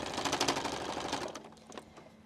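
A sewing machine running a rapid back stitch on a quilt through several layers of fabric, loud and steady, then slowing into a few separate stitches before stopping.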